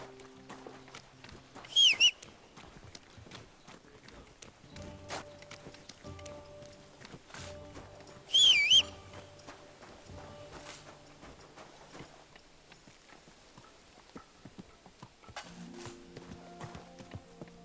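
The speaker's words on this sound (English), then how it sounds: "sounds like a bloody expensive horse" Horse hooves clip-clop in the medieval role-playing game Kingdom Come: Deliverance II, a soft steady patter of steps under other game sounds, with two brief bright whistle-like calls standing out.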